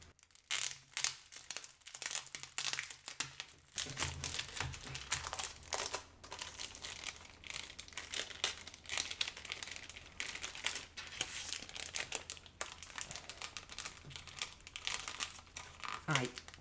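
Plastic bags crinkle and rustle during the unboxing of a pre-order bonus calendar, a faint, continuous crackling that goes on for a long stretch under occasional quiet talk.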